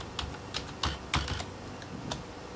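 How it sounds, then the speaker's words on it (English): A password is typed on a computer keyboard, giving a handful of crisp, close key clicks in an uneven rhythm with short pauses between bursts and no talk. "then I type in my password"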